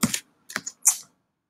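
Short bursts of keystrokes on a computer keyboard, three quick clusters of close clicking separated by brief pauses, with no talking.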